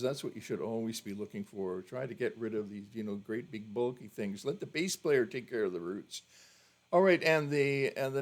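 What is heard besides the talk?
No distinct noise like a dog, phone or traffic.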